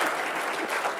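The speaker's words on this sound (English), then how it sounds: "A round of applause" An audience at a security technology talk breaks into applause, a dense wash of clapping at close, even loudness with no voices.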